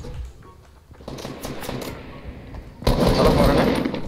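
Gunfire in Fortnite Battle Royale rings out in rapid bursts, first as sparse rattling shots and then as a louder, denser volley near the end. Players talk over parts of it.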